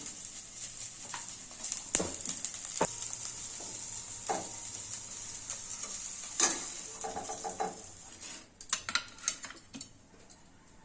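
Steady sizzling of cauliflower frying in hot oil, with a few sharp clinks of a utensil against the pan and stirring near the end.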